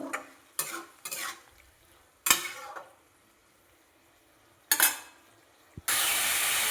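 Boiled potato and papaya are stir-fried in spice masala: several short scraping stirs break the quiet, separated by near silence, before a loud steady sizzle takes over at the end.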